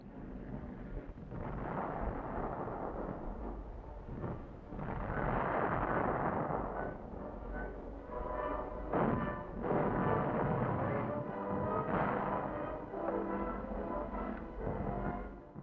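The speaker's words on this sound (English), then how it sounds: "From their assembly area, the tanks attack the town, vigorously supported by the artillery." Artillery fire backing a tank assault on a town, heard as a dense, continuous roar of booms and blasts with repeated heavy bursts, loud and sustained, with wind-like rumble throughout.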